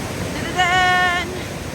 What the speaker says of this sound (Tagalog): Ayan na po yung falls natin. First falls.